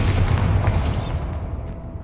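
A Bombarda explosion spell in Hogwarts Legacy on PS5 Pro, a single loud deep boom with a rumbling blast that slowly fades over about two seconds.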